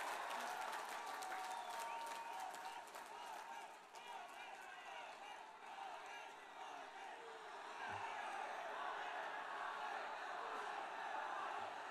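A large crowd at an election campaign rally in Odisha claps and cheers continuously, a thick, distant wash of applause with scattered whoops that dips briefly and swells again.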